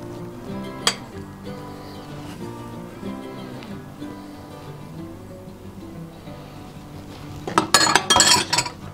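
Egg whites whisked in a bowl toward soft peaks for a white chocolate and mint mousse, a steady scraping, clinking rhythm of whisk against the bowl that turns faster and louder with sharp metallic clatter near the end.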